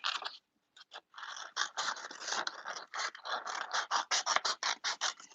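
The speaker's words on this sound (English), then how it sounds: "I'm going to kind of cut loosely around it" Scissors cutting loosely around a shape, a run of quick crisp snips and scraping cuts in close succession, near and fairly loud with no voices.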